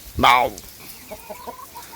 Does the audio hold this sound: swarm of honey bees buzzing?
no